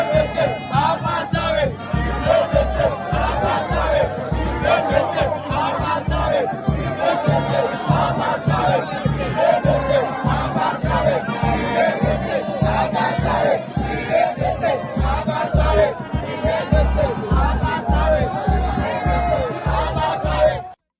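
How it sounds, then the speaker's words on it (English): A large crowd at a political rally in Grand Bassa roars and chants with rhythmic cheering and shouting that stays loud and dense throughout, under a steady pulsing beat. "Look at the kind of crowd."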